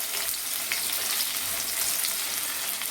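Long-sliced onions frying in a pan for mutton pulao give a dense, continuous close hiss and crackle, loud and even throughout with no voices.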